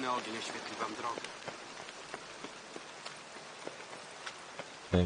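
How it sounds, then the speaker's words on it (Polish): Steady rain patters across a surface in the video game The Witcher 3, with scattered droplet ticks and some voiced sounds early on, ending in a brief loud thump. "Że naprawdę często pada."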